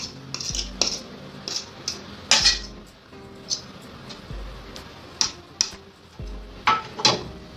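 A fork works cold butter into flour in a bowl for pâte brisée quiche dough, making irregular close metallic clinks and scrapes against the bowl, with soft low thumps between the sharper taps.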